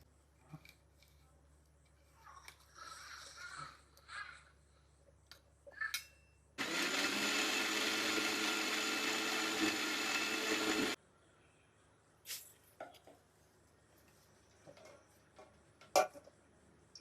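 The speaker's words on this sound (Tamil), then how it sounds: "பாசி பருப்புக்கு தேங்காய் அம்மா நறுக்கிட்டு இருக்காங்க மிக்சியில் அரைக்கிறதுக்காக" A kitchen mixer grinder grinds coconut for moong dal in a village home: a loud, steady whirring burst of about four seconds. Before and after it come quiet movement, clinks and soft distant talk.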